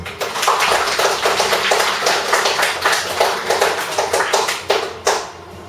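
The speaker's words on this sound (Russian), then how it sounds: "бурные аплодисменты" Enthusiastic applause from a concert audience at a children's arts school, dense and steady clapping that keeps going loud and close for several seconds, with a few sharper claps near the end.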